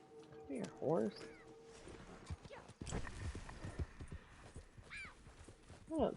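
Video game horse: hooves clip-clop at a quick pace alongside whinnying and animal calls, with a person talking over the activity.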